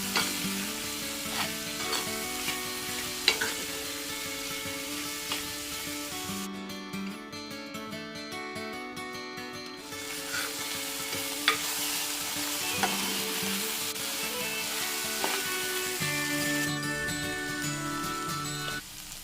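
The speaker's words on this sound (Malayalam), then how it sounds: "ഇത് വെളിച്ചെണ്ണയിലിട്ടൊന്ന് നല്ലതുപോലെ സോഫ്റ്റാക്കി കുറച്ച് സമയം, ഒരു മിനിറ്റൊക്കെ മതിയാവും." Okra pieces fry in coconut oil and are stirred, giving a steady close sizzle and occasional scraping crackles, with background music playing throughout.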